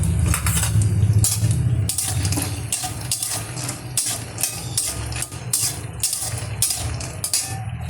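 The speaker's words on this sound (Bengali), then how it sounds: "এই যে আমি তেল দিয়েছি, এই বড়ি ভেজে নিচ্ছি" Homemade lentil bori fry in oil in a kadai, giving a steady, dense sizzle broken by repeated light clinks and scrapes of a utensil against the pan, fairly loud and continuous.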